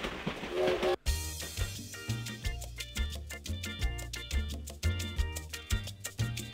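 A toy train sound in a Play-Doh video game: a brief noise, then a steady looping train jingle with a repeating low beat and bright chiming notes, loud and continuous.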